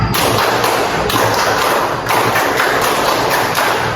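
Elementary schoolchildren in a classroom clap together in a rhythmic spirit cheer, with loud unison claps landing about once a second and no talking over them.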